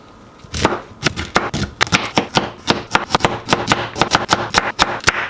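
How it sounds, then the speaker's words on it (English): Knife chopping broccoli on a cutting board, a quick series of sharp, close taps in an uneven rhythm, roughly two dozen cuts with no talking. "Let's get this broccoli cut up."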